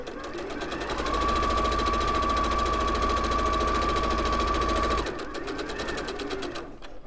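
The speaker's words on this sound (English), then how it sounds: "I'm going to use the guide from the 1/4 inch, so the blade, if you like, to so that I'm sewing 1/4 inch to the left of my drawn line." A sewing machine stitches fabric a quarter inch from a drawn line, running loud and steady for about four seconds with a fast mechanical whir and hum, then slowing to lighter ticking as it stops.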